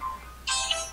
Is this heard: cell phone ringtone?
yes